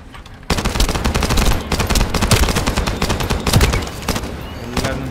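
Rapid automatic gunfire from the sci-fi shooter game The First Descendant bursts in after a quiet moment and rattles on densely for several seconds, loud and close, with no talk over it.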